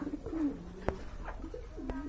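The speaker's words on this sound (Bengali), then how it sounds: "এখানে কিন্তু একজোড়া ঘুঘু দেখতে পাচ্ছেন অস্ট্রেলিয়ান ঘুঘু" Australian doves in a pair give soft, low cooing calls, a few separate coos spread across a couple of seconds with brief sharp clicks between them, fairly close and calm with no talking.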